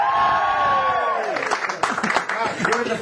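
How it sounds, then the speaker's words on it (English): Audience at a comedy club in Cardiff cheering and whooping loudly, with scattered clapping and voices rising through the crowd noise. "Give me a cheer if you think she's better than Pamez"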